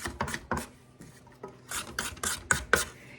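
A spatula scrapes cookie dough down the sides of a mixing bowl for Christmas cookies, making a series of short, quiet scraping strokes with brief pauses between them and no talking.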